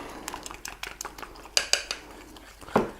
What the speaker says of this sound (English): the fork does a pretty good job, and just mix it up